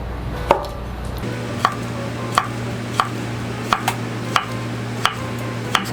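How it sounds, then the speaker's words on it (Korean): A knife dices konjac into small cubes on a cutting board, giving crisp evenly spaced chops about every two-thirds of a second over a low steady hum, with no one speaking. "곤약은 메추리알 크기로 약간 비슷하게 깍둑썰기로 잘라주세요."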